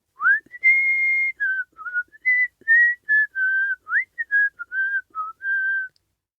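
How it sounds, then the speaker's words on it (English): A man whistles a lively tune while walking past a shop, a clear close melody of short and held notes with brief gaps, alone and with no talk. "The next morning a man walked past the shop whistling."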